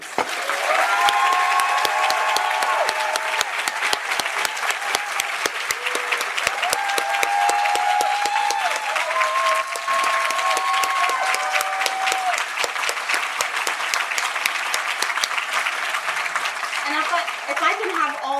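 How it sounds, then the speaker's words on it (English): Sustained audience applause with scattered cheers fills a presentation hall, dense and steady clapping continuing at full strength for the whole stretch, with some voices rising above the crowd. "If we could give one more round of applause for Gretchen."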